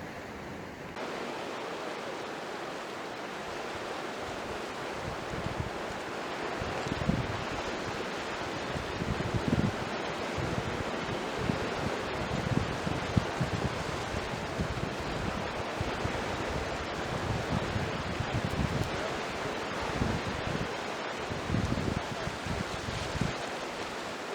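Wind and waves on Ireland's west coast form a steady, dense wash of surf and blowing air, with low gusty rumbles against the microphone, continuous and unbroken with no voices.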